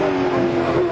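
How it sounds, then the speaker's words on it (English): A 1996 Holden touring car at Lakeside raceway gives a loud, close exhaust belch while climbing toward the loop, a steady harsh engine drone filling the whole moment with no talk. "Little belch from the exhaust as Lowndes guides it up through Hungary and up toward the loop"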